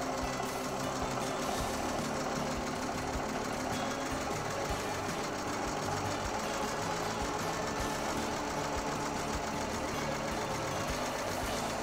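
An embroidery machine stitches a university rodeo logo onto a rope bag, a steady, dense mechanical whir with rapid needle chatter running continuously at close range, with no talking.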